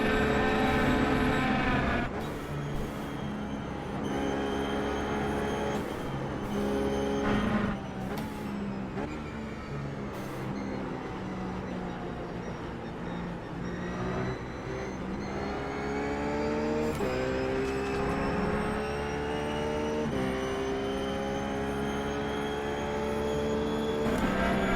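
A RUF GT3 race car in iRacing laps Phillip Island, its engine droning steadily loud throughout with rising and falling revs through gear changes, brief shifts and tyre noise, no talk over it.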